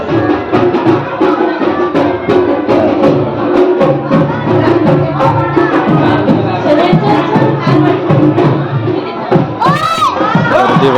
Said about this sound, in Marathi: गर्दी बघा किती पूर्ण पॅक झालाय सगळा गर्दी आहे.